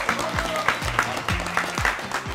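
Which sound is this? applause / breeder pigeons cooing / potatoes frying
applause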